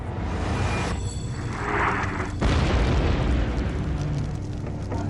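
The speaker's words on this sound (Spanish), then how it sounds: "empiezan a oír literalmente la enorme explosión volcánica" A deep, rumbling volcanic eruption boom rolls on continuously, loud and heavy, with a sharper burst partway through and no voices.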